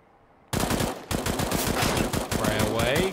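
Rapid automatic bursts from a FAMAS and an AK rattle through a Counter-Strike match on the map Train, loud and dense shot after shot, briefly broken once, with a commentator's voice faintly underneath.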